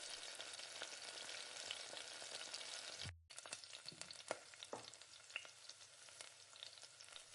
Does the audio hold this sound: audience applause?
no